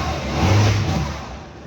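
An old barn-find Scooby-Doo style van engine revs hard in a single loud, close surge that rises and then eases over under two seconds, with no talk.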